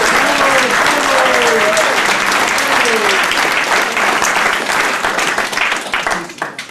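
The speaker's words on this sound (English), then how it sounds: "So if we could all give Barbara a round of applause." An audience at a coastal sea rise and erosion forum breaks into sustained, loud applause that fills the room and tapers off at the end.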